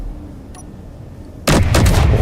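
An assault cannon firing in the video game Space Engineers, a quiet hum suddenly broken by loud, heavy booming blasts that roll on in quick succession.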